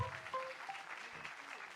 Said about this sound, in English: Give her another round of applause, folks.